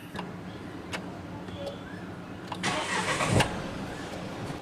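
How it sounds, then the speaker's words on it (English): A 2021 Mahindra Bolero Neo SUV engine cranks and catches, a rising burst of noise in the middle then settling into a steady idle, with some faint clicks beforehand. "Let's really start the vehicle."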